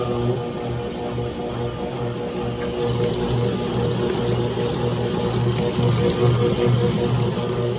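A GE top-load washer with a stripped agitator fills with water for a rinse cycle, a steady close rushing flow over a low, constant pump-like hum that runs without a break.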